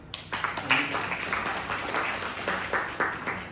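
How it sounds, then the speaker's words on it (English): Audience applause after a lecture on respiratory illnesses and prevention, scattered hand claps spread across a room, moderately loud and steady, with a voice speaking faintly beneath. "Let us clap."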